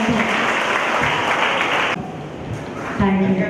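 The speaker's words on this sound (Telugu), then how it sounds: "గట్టిగా చప్పట్లు కొట్టి దేవుని నామాన్ని" Loud, dense clapping from a large church congregation at an anniversary celebration, continuous and rhythmic, briefly dipping before swelling again, with voices mixed in.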